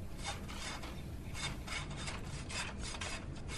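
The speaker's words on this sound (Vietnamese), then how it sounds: "Đưa cái cưa đây." A hand saw cuts wood in a rapid, steady rasping rhythm of back-and-forth strokes, loud and close with no talk.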